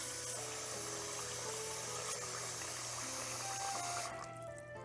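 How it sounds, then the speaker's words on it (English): Water runs from a tap into a cooking pot in a home kitchen, a steady close rushing stream with a faint hum beneath, cutting off near the end. "Now we'll fill our pot with water to cover the whole thing."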